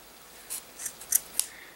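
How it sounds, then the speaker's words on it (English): Sharp scissors snip through yarn loops while making an aquarium spawning mop, giving four or five quick, crisp, close-up cuts in an otherwise quiet room. "Just going to run the scissors through"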